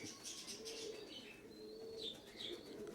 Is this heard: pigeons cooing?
yes